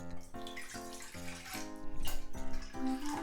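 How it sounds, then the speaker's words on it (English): Half a cup of water poured into a cooking pot for a kimchi hotpot, a steady splashing pour with rising pitch over a few seconds, close and clear with no talking. "So in a pot, I'm gonna put 1/2 cup of water."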